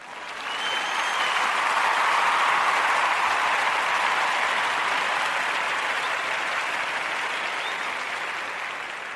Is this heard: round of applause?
yes